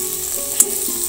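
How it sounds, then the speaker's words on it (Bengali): Prawns frying in hot oil in a home kitchen, a steady close sizzle with a faint brief clink partway through, no voices. "চিংড়ি মাছগুলো ভাজা হয়ে গেছে"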